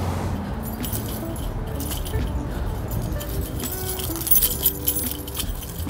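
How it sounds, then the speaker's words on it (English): A set of keys jingled continuously by hand, with bright metallic clinking and rattling that swells briefly near the end over a steady background hum. "It's funny because when I play back this footage of me ringing my keys, jingling my keys, Tofu will hear the footage"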